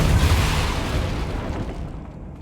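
Depulso force spell cast in Hogwarts Legacy: a single loud, booming magical blast that hits at once and slowly fades over a couple of seconds, with no talking.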